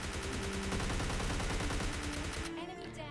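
Rapid automatic gunfire from a PUBG Mobile Lite match rattles loudly and continuously for over two seconds, then breaks off into quieter shots and echoes.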